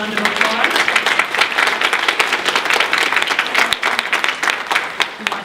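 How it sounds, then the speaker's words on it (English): Applause from the audience at a Girl Scouts annual meeting, a brisk crowd clapping that carries on throughout with some voices mixed in. "let's give another round of applause"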